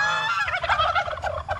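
Turkeys on a farm gobble in a quick, rattling burst of several close, loud calls with no talking.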